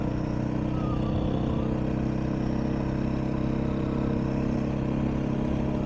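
A 2021 Beta 500 RRS motorcycle rides along a main road, its engine a steady, continuous throbbing drone mixed with wind rush throughout.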